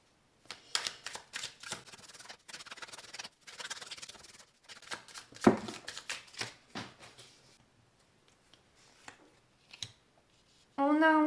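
Tarot cards are shuffled and drawn by hand in a quiet room: bursts of crisp riffling and soft slaps of card on card, with a short ringing tone at the very end.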